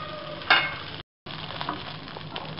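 Pan-fried noodles cooking in a pan on a slow flame, giving a soft, steady sizzle with a brief louder burst near the start, a short gap, then continued quiet frying alone.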